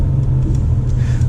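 Car engine downshifting while following a dump truck on the road, a loud low rumble with steady mid-range engine drone and road noise close in the cabin.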